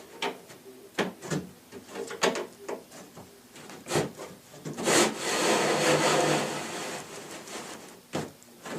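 A wooden lazy susan is slid down into milled wooden channels, giving repeated close scraping and rubbing knocks, followed by a longer sustained sliding rub and a final bump.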